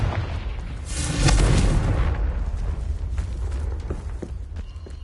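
A Confringo fire spell bursts in Hogwarts Legacy gameplay, a booming blast that swells quickly and then fades into rumbling debris and scattered impacts.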